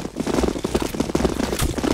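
Dense, rapid gunfire from CS:GO in a zombie escape match, loud continuous bursts of shots blending into a busy rattling barrage with no clear gaps and no talking.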